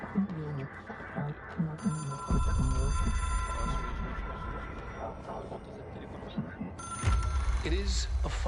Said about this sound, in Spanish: Todavía escucho el timbre del teléfono.